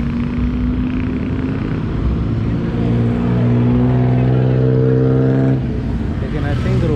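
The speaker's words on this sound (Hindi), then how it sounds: "ये तो सड़क पे ट्रैफिक बहुत है सड़क क्रॉस करने के लिए" Heavy Bangkok road traffic flows past close by, with engines droning and a vehicle swelling loudly as it passes before dropping away, all beneath someone speaking.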